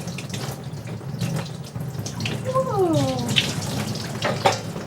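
Running water rinses a dog during a bath with a homemade tea tree oil and lavender mix, a steady close splashing that fills the whole stretch while a person exclaims once.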